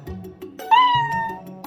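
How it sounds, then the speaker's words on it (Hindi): A big black cat meowing loudly, one drawn-out close meow rising and falling, set among soft background clatter. "बिल्ली जोर से म्याऊं म्याऊं करती है।"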